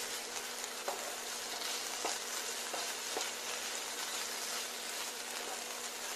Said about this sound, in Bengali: আরো একটু ভাজা ভাজা করে নেব যাতে জলটা একদমই না থাকে